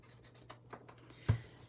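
Paper is cut out by hand for a monogram craft, giving a few faint, close scratchy snips and rustles with one sharper cut near the end.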